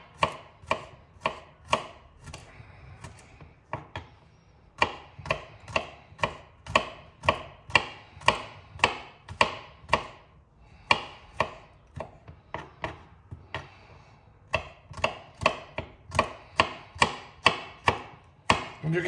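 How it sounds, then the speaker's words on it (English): A knife chops garlic on a cutting board in a quick, steady series of crisp, close taps, with brief pauses between runs and no talk. "And you keep cutting the garlic like this."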